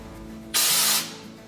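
A single burst of spray texture hisses onto drywall for about half a second, loud and close, over a steady low hum.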